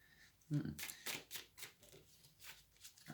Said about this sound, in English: I was shuffling for a clarifier, by the way.